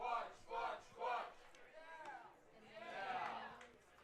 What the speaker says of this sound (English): Crowd trying to get into it here at the ballpark